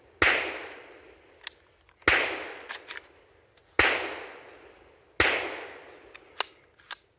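Four evenly spaced sharp rifle shots fired with a Hoffman Tactical trigger kicker, each crack close and loud with a short decaying tail, smaller clicks and clacks of the action between them.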